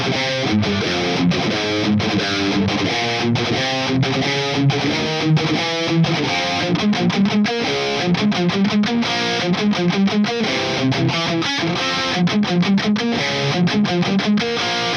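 Distorted electric guitar played through an EVH 5150 amp, loud, tight, fast palm-muted riffing with chugging rhythm and brief pauses, alone without talk.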